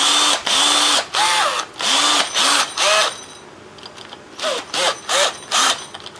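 An overheating, smoking power tool runs slowly with a rattle inside, whirring loudly in about nine short trigger bursts, each spinning up and winding down, with a quieter gap in the middle.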